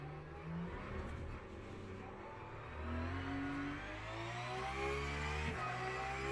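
A Porsche engine in a sim racing game revs hard while exiting corners, its pitch climbing through gear pulls with a brief dip and shift before rising again, steady and close with no talking.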